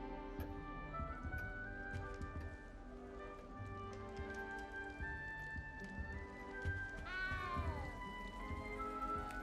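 A cat meows in the video game Hogwarts Legacy, with a few tonal, wavering cries over a busy game soundscape and a sharper rising-falling meow near the end.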